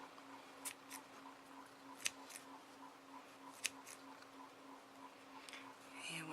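Scissors snipping through yarn loops while making a pom-pom, several quiet, crisp cuts spaced irregularly over a steady low hum, close and faint, with no talking.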